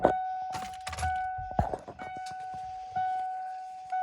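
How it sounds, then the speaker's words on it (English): Several sharp mechanical clicks and dull thunks from a burned-up glow plug relay on a 1996 Ford F-250 7.3L sound up close over a steady high-pitched tone that cuts in and out. No voices. "Even though I still hear the relay click for it."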